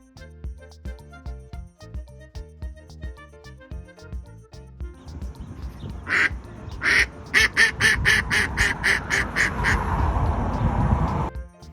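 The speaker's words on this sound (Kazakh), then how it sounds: "Үйрек." A duck quacks repeatedly in a steady run of short, loud calls against a busy background of music and broadband noise.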